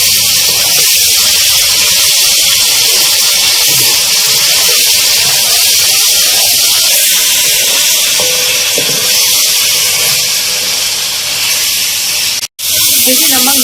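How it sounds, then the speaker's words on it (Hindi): Chicken, about 500 grams, frying in oil in a pan for a Balochi karahi, giving a loud, steady, dense sizzle throughout with a brief dropout near the end. "इस चिकन को हम फ्राई करेंगे इस ऑयल के अंदर"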